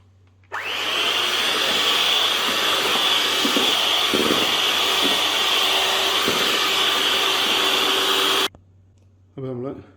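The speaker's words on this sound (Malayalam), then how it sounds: "ഇതിനെ കൂടി ഇട്ടിട്ട് നമുക്കൊന്ന് ചെറുതായിട്ട് ബീറ്റ് ചെയ്ത് കൊടുക്കാം." An electric hand mixer beating butter and brown sugar for a Christmas plum cake, a loud steady whirring drone that runs for about eight seconds, then stops abruptly, followed by a brief spoken phrase.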